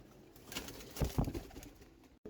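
Pigeons in a loft coo softly and faintly, with a few low, brief coos clustered near the middle over a quiet, rustling background.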